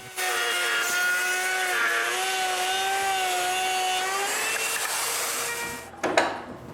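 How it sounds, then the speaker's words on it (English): A router fitted with a straight bit cuts a channel in wood on a moveable workbench, a loud steady high-pitched whine with a slight pitch wobble that runs for about six seconds before cutting off. "So now I decide to cut the channel with a straight bit and a router."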